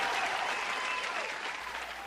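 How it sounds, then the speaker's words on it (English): A crowd gives a round of applause, dense, continuous clapping close by that stays loud throughout and eases slightly toward the end. "A round of applause was the answer to that question."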